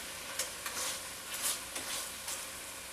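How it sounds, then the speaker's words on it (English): Slices of pork sizzle and get stirred through a bubbling apricot wine glaze in a hot pan, with soft scraping strokes and small clinks over a steady, fairly quiet frying hiss. "We're just going to add these back in and kind of stir them around in the sauce."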